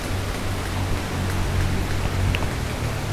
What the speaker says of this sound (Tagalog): humina na ang ulan, pero nandiyan bumabaha.